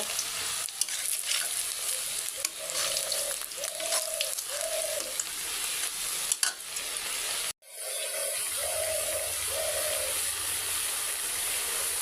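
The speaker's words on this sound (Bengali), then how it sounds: "আমি সুন্দর করে বড়াগুলো ভাজবো" Lentil fritters (boras) frying in a pan, a steady close sizzle with a brief clatter and a sharp break partway through before the frying continues, no talking.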